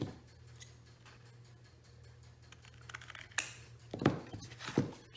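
Scissors cutting through the paper of a security envelope at close range, a few quiet snips and rustles building to sharper cuts near the end, with no voice present.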